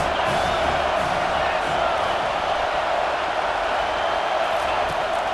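A dense, constant roar of a large stadium crowd cheering in a college football video game fills the space evenly, with no breaks and no clear single voices standing out.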